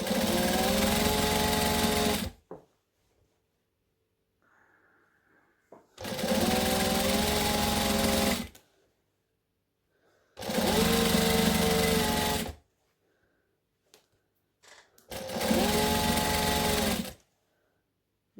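Sewing machine stitching a table runner, running in four loud, steady bursts of about two to three seconds each, separated by quiet pauses with faint handling sounds.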